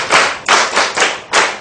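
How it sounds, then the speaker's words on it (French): Students in a classroom clap for a classmate in five loud, close, evenly spaced bursts over under two seconds, with no talk. "Applaudissez pour lui"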